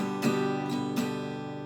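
Acoustic guitar plays a strumming pattern for a song, with several quick strokes in a short rhythmic burst and the chord ringing sustained between and after them, close and moderately quiet.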